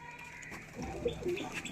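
Tournament pigeons coo softly in a home loft, low and moderately faint, with a few murmuring calls overlapping.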